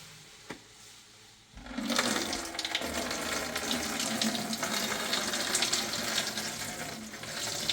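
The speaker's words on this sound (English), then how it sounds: "empty our water out of here" Water gushes out of a Frankford Arsenal Rotary Tumbler Lite drum, starting abruptly after a quiet moment with a small knock, then pouring and splashing steadily and loudly, close by, with no talk.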